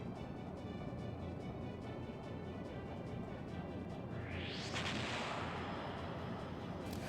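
Steady, dense booming gunfire from a ship battle in the video game Skies of Arcadia: Legends, with a rising sweeping blast partway through, continuous and moderately loud without speech.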